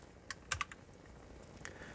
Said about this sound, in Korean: 키보드 컨트롤을 누른 상태로 누르면